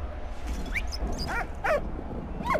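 A dog in the World War I video game Valiant Hearts gives a few short, high yips and whimpering barks, spaced apart over a quiet background hum.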